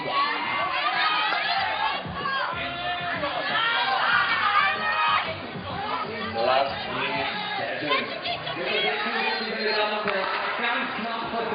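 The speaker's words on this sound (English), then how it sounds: "A lot of cheering going on behind me" Dense crowd cheering and shouting at a men's bouldering qualification round of the 2012 Climbing World Cup in Innsbruck, Austria, a loud continuous roar of voices with excited yells rising and falling throughout.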